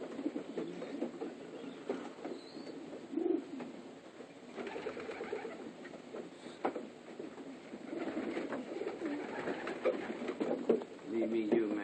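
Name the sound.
pigeons cooing, Dick LaCroix pigeon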